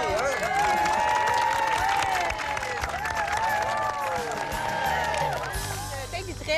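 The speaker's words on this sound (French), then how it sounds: "on l'applaudit, hein?" An audience applauding and cheering at a Quebec community TV show gathering, dense sustained clapping mixed with excited crowd voices and shouts, easing slightly toward the end.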